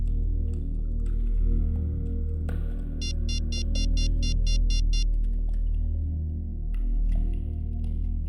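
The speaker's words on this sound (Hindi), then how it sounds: "मैं अभी फोन करता हूं।" A phone rings on an outgoing call, a short run of rapid, evenly spaced electronic beeps over a low steady hum, with quieter rustles before and after.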